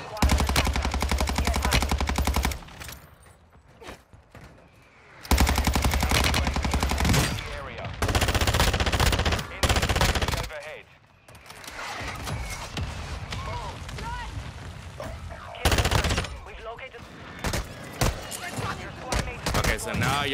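Automatic rifle fire and gunshots in Call of Duty Warzone 2 at Vondel Park, loud sustained bursts repeating across the fight, cutting in and out with battle noise and a player talking over parts of it.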